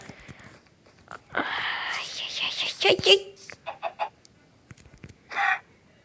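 Several cartoonish chicken clucks and squawks come in short bursts amid quiet video game sounds, with someone murmuring between them.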